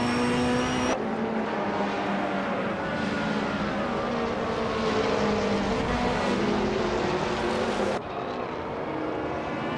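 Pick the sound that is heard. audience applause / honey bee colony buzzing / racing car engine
racing car engine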